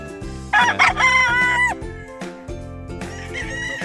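Roosters crow at a game farm, with loud, close, overlapping cock-a-doodle-doo calls that repeat in quick succession over steady background farm noise.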